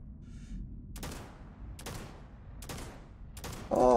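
Game gunfire from a pirate-themed video game: four evenly spaced single shots, each a sharp crack with a short tail, over a steady low background hum, then a louder burst of sound at the very end.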